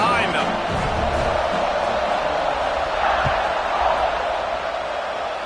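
A football stadium crowd at LSU versus Alabama roars steadily before a kickoff, a dense wash of cheering and voices that holds at a constant level throughout.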